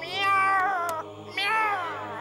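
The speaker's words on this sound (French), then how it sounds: "Gentil le chat, gentil le chat." A cat meows twice, loud and close, in long drawn-out wavering cries with a short pause between them.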